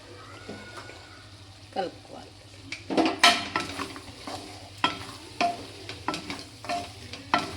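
Chili powder fries in oil in a pan for a Telangana-style mutton curry with cucumber, a soft sizzle under repeated scraping and clinking stirs of a spoon against the pot, close by.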